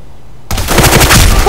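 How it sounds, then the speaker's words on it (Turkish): Loud machine gun fire from a PC shooter game bursts in suddenly after a short silence and hammers on as a rapid, close burst. "Taramalı şov yapacağım."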